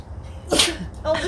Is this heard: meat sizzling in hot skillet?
no